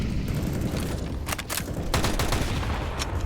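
Gunfire during a competitive Counter-Strike match on the Nuke map: a few sharp shots and short bursts ring out over constant game ambience and a crowd-like background hum.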